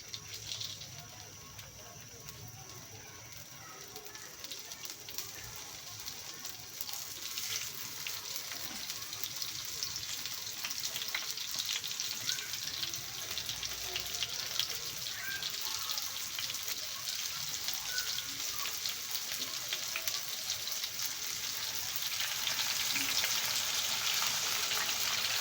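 Chicken pieces frying in hot oil for a homemade grilled chicken dish, giving a steady dense sizzle and crackle that builds slightly louder toward the end, close up with no talk.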